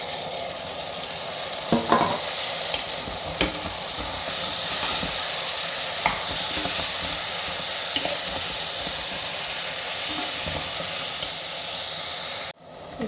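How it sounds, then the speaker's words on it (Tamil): Chopped tomatoes with turmeric powder sauté in a pan for Chettinad curry with black Ayam Cemani chicken, giving a steady close sizzle and hiss with occasional spoon scrapes and stirs, then a sudden cutoff near the end. "இப்போது தக்காளிலாம் நல்லா வதங்கி வந்திருக்கு"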